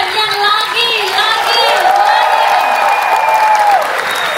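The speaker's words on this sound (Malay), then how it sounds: "kita berikan tepukan yang lagi." Audience applause at an orchestra festival in Kuala Lumpur: a steady, dense clapping crowd close by for several seconds, with a voice sounding over it.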